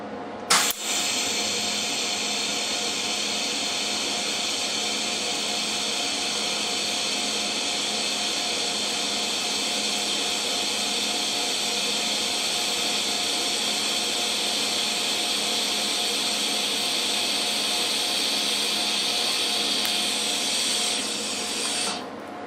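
TIG welding an Alfa Romeo 105 exhaust extractor at 170 amps with 2.4mm filler rod, a steady, close electrical hiss and buzz held for about twenty seconds without a break, starting and stopping abruptly.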